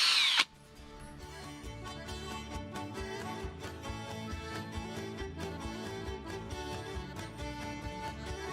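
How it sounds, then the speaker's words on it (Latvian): A power drill whirs steadily as it bores holes into a wooden log for growing shiitake mushrooms, a continuous grinding drone after a brief sharp burst at the start. "izmēģinām urpšanu"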